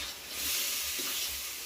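Water poured into frying spice paste in a pan, a steady broad hiss and sizzle that swells briefly, close and alone without talk.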